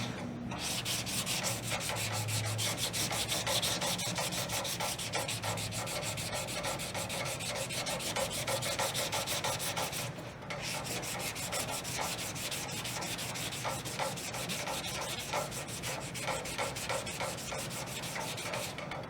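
Filler putty is wet sanded by hand with 320 grit paper to remove clear coat runs, giving a continuous close gritty rubbing with a fast back-and-forth rhythm. It has one brief pause midway and no talking.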